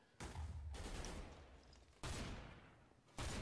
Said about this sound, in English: Who's shooting? It's our teammate just wasting their bullets.